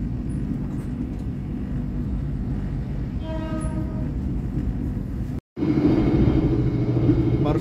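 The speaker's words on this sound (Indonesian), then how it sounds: "Barusan tadi kereta api Pandalungan melintas langsung stasiun Babatnar." The Pandalungan passenger train passes a station at speed, a loud continuous rumble of rolling wagons with a brief horn-like tone midway, a short dropout, then a heavier rattling roar, heard from close by.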